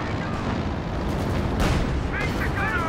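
Bombing-run explosions in the World War II strategy game Company of Heroes 2, a dense, continuous rumble of blasts and booms striking near a Panzer IV tank, with bursts of crackling mixed in and a voice talking throughout.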